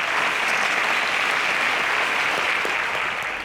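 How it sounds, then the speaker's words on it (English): Loud, dense applause from a studio audience on a televised quiz competition, sustained and even throughout with no talking over it. "A round of applause for Blossom."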